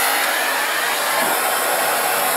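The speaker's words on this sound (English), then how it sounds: "The machine has tons of vacuum power." Miele C3 canister vacuum cleaner with an articulating bare floor attachment running on a hard floor, a loud, steady high-pitched whir that holds constant throughout with no voices.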